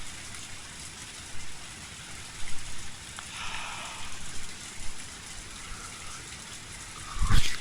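Rain falls steadily in the visual novel Matsuribayashi, a close, even hiss with light patter and a few brighter splashy swells, ending in a sharper louder burst.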